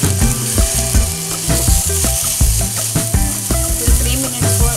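Chicken pieces fry and sizzle steadily in a pan for Japanese omurice, a close, continuous crackle with regular knocks and scrapes of stirring.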